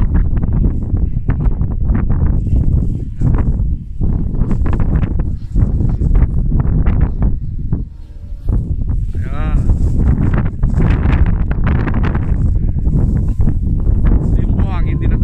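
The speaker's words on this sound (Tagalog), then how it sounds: "Yung buhangin, dinadala siya ng malakas na hangin." Loud, sustained wind roars and buffets the microphone, with gusty rushing and hissing grains swept along, dipping briefly before surging again.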